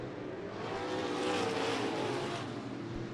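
Race cars accelerate hard off turn two at Bakersfield Speedway during the Budweiser Nationals, a loud, continuous engine roar that swells and peaks mid-way as the cars pass, with no talk over it.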